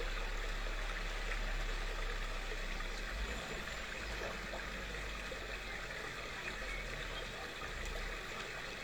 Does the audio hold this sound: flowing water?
yes